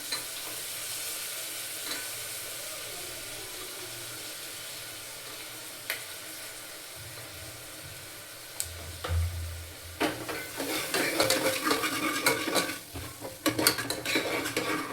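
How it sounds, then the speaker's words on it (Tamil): Green peas sauté in oil in a pan, giving a low, steady sizzle. Louder scraping and clattering of a utensil against the pan come in during the second half. "பட்டாணி 2 மினிட்ஸ் இதிலே நல்லா இந்த ஆயிலே நல்லா வதக்கி விடுங்க."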